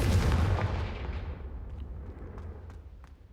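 A Confringo blasting spell from Hogwarts Legacy goes off in one heavy, booming explosion that starts loud and rolls away into a long, fading rumble.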